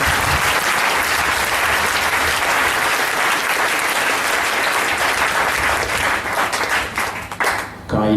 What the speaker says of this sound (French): Acclamez très fort pour le Seigneur.